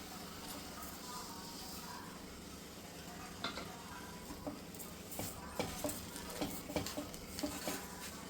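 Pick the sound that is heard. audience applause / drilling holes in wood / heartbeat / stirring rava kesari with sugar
stirring rava kesari with sugar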